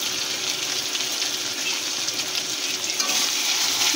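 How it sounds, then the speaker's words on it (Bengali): Masala frying and being stirred in a pan for tangra fish curry with ginger and garlic, a steady loud sizzle with scraping stir strokes throughout, no talk. "দিয়ে ভালো করে কষাতে থাকবে"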